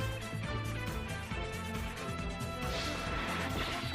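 An anime attack impact as Stardust Chronicles Spark Dragon strikes Red Eyes in a Yu-Gi-Oh duel: a dense, loud crashing blast with layered music and effects that stays intense throughout.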